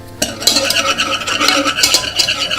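A whisk beats bicarbonate of soda into a vegan gingerbread mixture in a bowl, a quick run of scraping, clinking strokes that starts abruptly and continues close and steady, with no talk.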